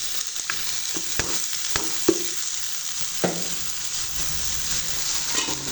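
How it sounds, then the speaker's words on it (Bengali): Taro stolons are stirred in a sizzling pan alongside jackfruit seeds, with a constant frying hiss and scattered spatula knocks and scrapes at irregular intervals, close by with no talking. "লতিটা সুন্দর মতন একটা নাড়া দিয়ে দিব।"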